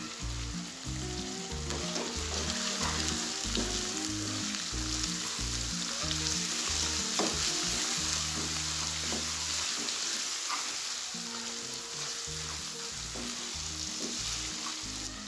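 Masala sizzles and fries in a pan with turmeric, ground coriander and salt added while cooking aloo gosht, a steady crackling hiss with occasional stirring, close and continuous without speech.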